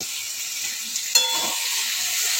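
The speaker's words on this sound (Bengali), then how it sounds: "এবার মশলা দিয়ে ভালো করে কষতে হবে, যতক্ষণ না মশলা থেকে তেল ছাড়ে" Spice paste for a fish curry frying in hot oil, a steady sizzling hiss throughout with one brief sharper spatter or scrape partway, no voices.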